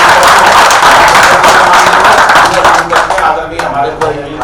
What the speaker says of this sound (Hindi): अब इनको तालियों में बदल दे